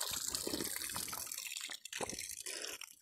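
Water from a mountain spring in a hill village near Uttarkashi, a steady splashing gush with a continuous hiss, close by, briefly dipping as the flow is interrupted, with no talk.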